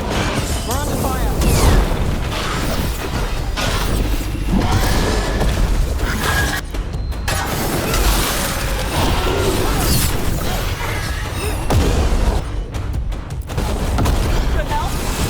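Gunfire and explosions crackle and boom continuously in the Dragon Age: The Veilguard video game, dense bursts layered with mechanical clatter across a loud battle soundscape, with voices calling out underneath.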